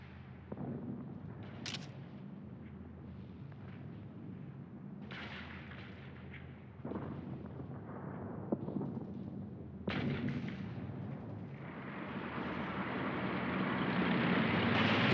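Battle sounds from archival war footage of a town assault, with grenade blasts and gunfire: scattered sharp reports and rumbling bursts over a continuous noisy bed, growing denser and louder toward the end, with no speech.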